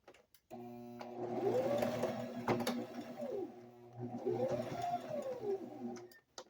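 Home sewing machine stitching a hemp cloth fitted diaper at a shortened stitch length; two sustained runs of close, steady mechanical whirring and rapid needle clatter with a short pause between them, with no talking.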